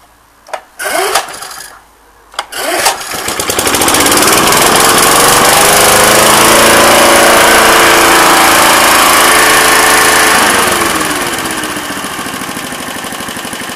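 A 1982 push lawn mower gets a few pull-start tugs, with sharp rattles and brief sputters. Its small engine then catches and runs loud and steady at close range, easing slightly toward the end.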